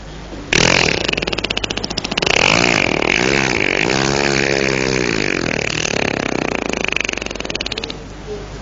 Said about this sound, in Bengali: সেই ইঞ্জিনের চালক ওটাকে স্টার্ট দিচ্ছিল। শুনুন সেই ইঞ্জিনের শব্দটি।